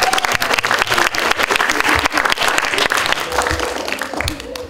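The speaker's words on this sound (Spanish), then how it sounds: "aplausos." Steady applause from an assembled audience welcoming a school delegation at a public hearing, dense overlapping clapping that gradually softens toward the end.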